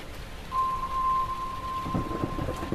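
Steady rain with low rumbling thunder builds through a stormy night scene, joined by a sustained tonal hum, with no voices present.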